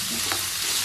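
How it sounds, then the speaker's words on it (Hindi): Chicken pieces hitting hot oil with golden-brown garlic ginger paste, giving a loud, steady, close-up sizzle and frying hiss throughout, with a brief stir partway through and no talking. "अब इसके अंदर मैं चिकन शामिल कर रही हूँ।"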